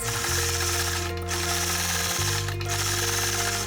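A quilting machine stitches a bump flower motif, giving a loud, rapid mechanical whir and clatter that runs continuously up close, its pitch shifting as the stitching changes pace.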